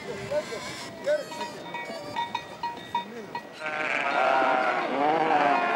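Sheep and goats bleating at a desert well where dromedaries and cows also drink, several wavering bleats from different animals close by over a background of murmuring herders and shuffling livestock.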